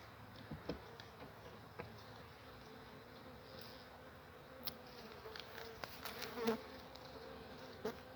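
Honeybees buzz around an open hive during a late-February colony inspection, a faint steady drone with individual bees flying close by in brief louder passes, no voices.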